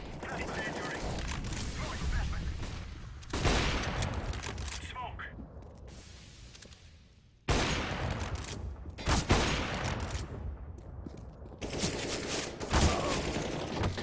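AWP sniper and rifle fire in a pro CS:GO match cracks out in several sharp bursts, with quieter gaps and mechanical reload clicks between them, under a commentator's voice.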